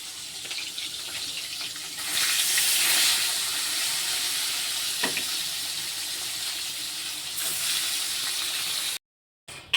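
Ganges tengra fish frying in hot oil make a loud, continuous hissing sizzle that swells briefly near the start and then holds steady before cutting off abruptly.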